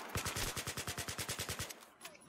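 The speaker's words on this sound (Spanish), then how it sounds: "Estoy disparando a la nada" Rapid automatic gunfire from the video game Battlefield 3, a sustained burst of about fifteen evenly spaced loud shots that stops abruptly, followed by a short fading tail and a faint distant shot.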